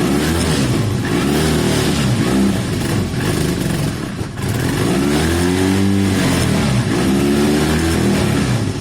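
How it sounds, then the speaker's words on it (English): A cold Honda CB250 motorcycle engine, built as a bobber, warming up, with a loud, steady near rumble and slowly rising and falling revs, no talk. "Bike seems very cold at the moment. I'm going to give it a while to warm up sensibly."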